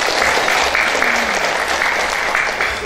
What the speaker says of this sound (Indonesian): Tepuk tangan buat Ibu Haja Lilis.